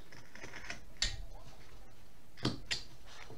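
A knife carving wood, cutting across a caricature figure: a few quiet, sharp clicks and scrapes of the blade, spaced apart over a faint background hiss.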